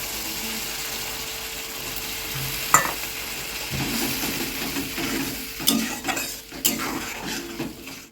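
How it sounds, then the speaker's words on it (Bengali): Coriander, onion, garlic and ginger paste goes into hot oil for a fish Manchurian and fries with a steady sizzle, while a spoon stirs and scrapes the pan in a few clear knocks. "এবার এবারে দেবো ওই পেস্ট করা ধনেপাতা, পেঁয়াজ, রসুন, আদা বাটাটা।"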